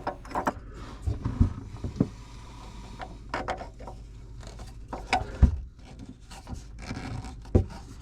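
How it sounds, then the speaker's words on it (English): Metal clicks, scrapes and short knocks as a nut and spacer are tightened onto a kitchen faucet spout shank under the sink cabinet, coming in irregular bursts at close range with no talk. "A spacer with a nut from under the cabinet will be tightened up to keep it in place."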